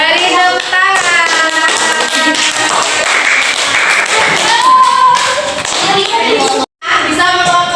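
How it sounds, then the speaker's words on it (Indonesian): Fifth-grade schoolchildren in a classroom clap together in a loud, rapid, fairly rhythmic burst, with voices mixed in, a brief pause near the end, then clapping and voices resume. "Beri tepuk tangan."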